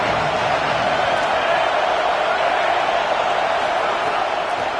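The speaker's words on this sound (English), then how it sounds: "Decibels rising as the crowd gets behind this defense on third down." Stadium crowd in an NCAA college football video game roars on third down, a dense, loud, unbroken wall of cheering and noise that holds steady at full volume.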